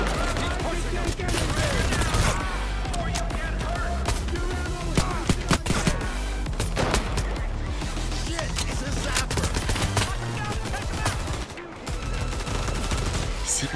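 Rapid gunfire in the heist shooter Payday 3, dense bursts of shots from a sniper and other weapons crackling throughout amid game noise, with players talking over it.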